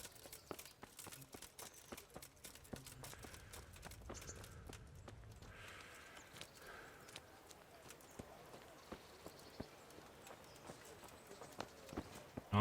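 Horse hooves clip-clopping in the medieval video game Kingdom Come: Deliverance, a quiet, uneven run of hoof strikes with soft ambient rustle behind.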